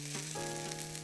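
Red pepper strips and carrot batonnets sizzle in a hot pan for red Thai curry, a soft, steady frying hiss heard alone at close range.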